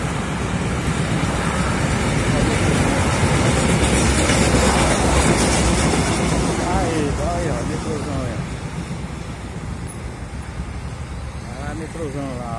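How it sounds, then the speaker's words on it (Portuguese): A Fortaleza metro train rolls past in a loud, continuous rumble with rhythmic wheel clatter. Someone talks excitedly over it. "Olha o metrôzão aí, ó."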